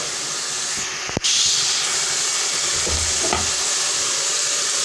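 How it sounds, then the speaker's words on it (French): A snail, tomato sauce and mushroom mixture simmers as water is added, giving a loud, continuous sizzling hiss broken by a sharp knock of a utensil against the pot. "Je vais ajouter un peu d'eau et laisser mijoter pendant quelques instants."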